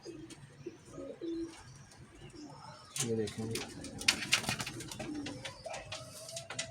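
Pigeons coo softly nearby, low rolling calls repeating under a man's speech, with some rustling and chirps in the background.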